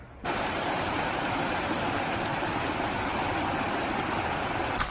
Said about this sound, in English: You can hear that river?